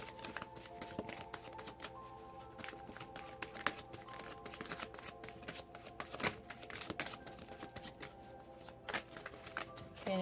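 Tarot cards being shuffled for a Leo monthly reading, with a steady papery riffle and soft flicking running under quiet faint ticks and taps, close and fairly low in level.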